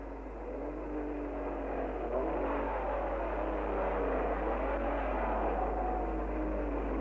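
Formula 1 cars from 1959 pulling away at the start of the British Grand Prix, a blended roar of engines building and whirring past at a distance, faint beneath old film hiss and a low hum.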